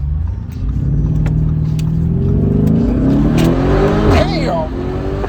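A Lamborghini in Corsa mode accelerates hard from inside the cabin, its engine note climbing steadily in pitch with a gear-change dip near the end, loud and close, with people talking over it.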